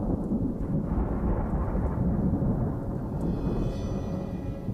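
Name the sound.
thunderstorm with rain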